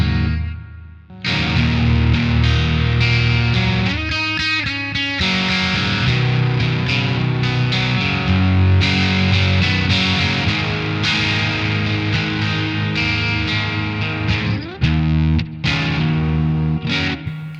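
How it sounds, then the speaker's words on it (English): Electric guitar played through the Deluxe Reverb amp model of a Mooer Preamp Model X2, a sustained run of chords and riffs with a short gap, loud, close and alone. "So that is the deluxe reverb"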